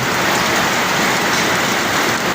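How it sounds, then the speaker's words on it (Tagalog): Heavy monsoon rain pours steadily in a dense, unbroken hiss, loud and close, with no wind and no voices, near the sea in the Philippines. "wala siyang hangin pero malakas yung ulan niya"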